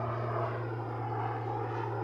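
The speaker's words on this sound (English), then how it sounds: "That is a turbine crop duster, baby." Turbine crop duster airplane flying nearby, a steady droning engine roar with a strong low hum, loud and continuous, with no talk.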